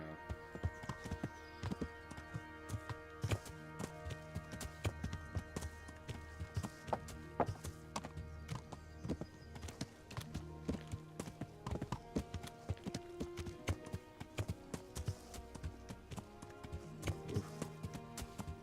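Horse hooves clip-clop in a rapid galloping rhythm throughout the Kingdom Come Deliverance video game, steady and fairly quiet over layered game ambience, with no talk in the clip.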